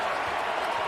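Crowd noise fills a basketball arena during a Kentucky versus Tennessee game, a steady, dense wash of cheering and murmur with no distinct claps or bounces standing out.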